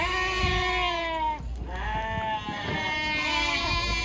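Sheep at a livestock market in Kyzylorda bleating in long, wavering cries, one sustained bleat followed by another after a brief gap, close and fairly loud over a low background rumble.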